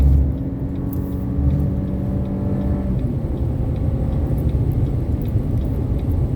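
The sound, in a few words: Chevy Colorado truck accelerating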